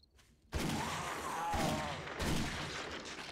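Burst of gunfire from a firearm in the survival video game 7 Days to Die, a few dense loud shots blending into a continuous rattling volley after a brief quiet start.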